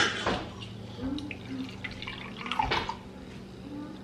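Liquid trickles and drips into a container, a light splashing pour at close range with faint background noise.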